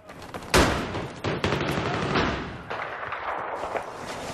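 Close-quarters gunfire in Battlefield 3 team deathmatch: a sharp loud shot followed by rapid overlapping bursts and thuds, near and dense throughout, with brief gaps between volleys.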